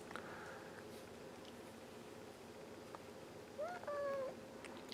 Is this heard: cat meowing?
yes